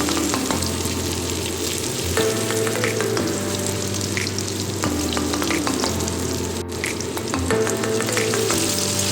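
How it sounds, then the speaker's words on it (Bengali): Paneer pieces frying in hot oil, a loud, continuous crackling sizzle close up with occasional light clinks, no voices. "এরপর বাকি পনিরগুলিও আমরা একে একে তেলের মধ্যে ছেড়ে ভেজে নেব।"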